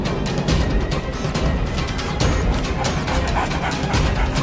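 A cartoon dog yips and barks amid a busy, loud scene as it bites a man's leg, with crashing and commotion filling the whole stretch.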